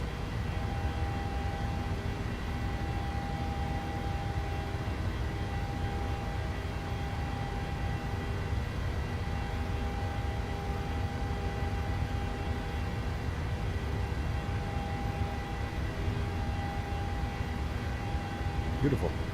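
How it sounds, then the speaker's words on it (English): Jet engines of a PMDG 737-800 on departure in Microsoft Flight Simulator, a steady, loud broadband roar with a faint whine running throughout, and no voices. "Nice departure though. Loud. Very loud. This plane is loud."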